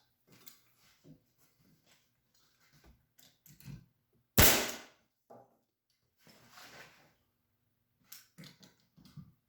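A nail gun tacking cabinet parts fires one loud, sharp shot at close range, surrounded by scattered faint clicks and light handling noises in an otherwise quiet workshop.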